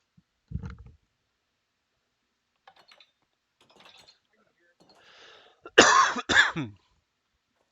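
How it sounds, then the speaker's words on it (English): A single sharp cough near the microphone, preceded by a soft thump and some faint clicking in otherwise quiet surroundings. "Excuse me, I had to cough."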